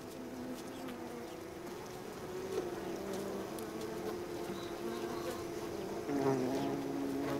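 Bees buzz near a Sicilian wall lizard in the Italian countryside, a steady insect drone with several overlapping buzzing tones passing close, continuous and fairly faint, with no voices.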